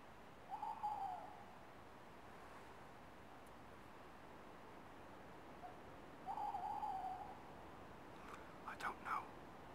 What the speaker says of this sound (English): An owl or any kind